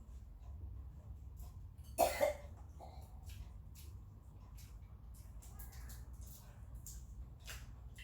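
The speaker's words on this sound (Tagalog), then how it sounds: "Sila pa minsan-minsan may ubo-ubo." A single short cough, close and fairly clear, followed by a faint throat sound, in an otherwise quiet room with a low background hum and occasional faint noises.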